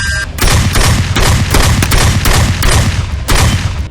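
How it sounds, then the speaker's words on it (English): Rapid string of shotgun blasts firing birdshot through a Holosun Paralow red dot sight, about a dozen loud close reports in quick succession over a continuous booming din. "We'll zero for slugs, lots of birdshot, then we'll shoot a slug again."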